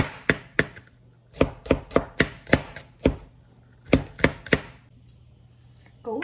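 Purple shallots minced with a knife while preparing Vietnamese crab noodle soup: about fourteen sharp, close chops in quick uneven bursts with short pauses between groups.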